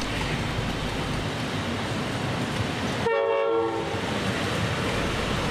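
Steam locomotives 4306 and 4001 pulling into Thirlmere station, heard from the museum platform: a loud, steady rumble of rolling wheels and carriages, broken midway by a sharp horn blast.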